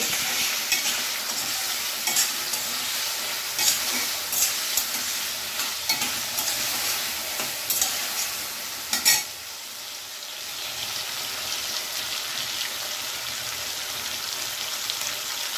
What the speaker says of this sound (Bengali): আমি অল্প একটু লবণ দিয়ে দেবো আর একটু ভেজে নেব।